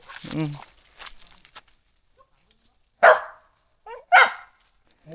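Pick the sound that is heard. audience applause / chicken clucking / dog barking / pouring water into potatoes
dog barking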